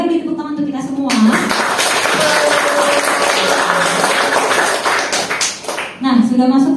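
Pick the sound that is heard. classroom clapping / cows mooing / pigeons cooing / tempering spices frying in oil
classroom clapping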